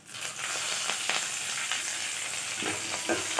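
Grated ginger and curry leaves frying in hot oil in a pan for instant aval idli give a steady, close sizzle, with a few utensil clicks and crackles, loudest near the end.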